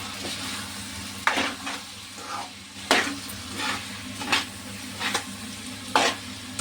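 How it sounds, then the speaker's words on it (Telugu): Chili powder being stirred into a bottle gourd and drumstick milk curry in a pan; soft scraping strokes of a spoon recur every second or so over a gentle background sizzle, close and fairly quiet. "కారం అంతా కలిసేలాగా చక్కగా కూర కలుపుదాము"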